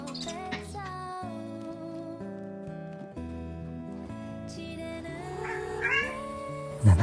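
A house cat waits by the door late at night and gives soft meows, mostly near the end. Steady background music plays throughout.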